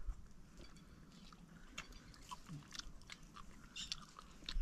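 Someone eats fried malaya fish outdoors at a camping spot, quiet close-up crunching and chewing with small crisp bites scattered throughout against a faint background, no talk.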